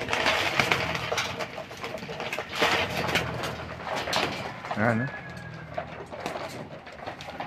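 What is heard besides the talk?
pigeons cooing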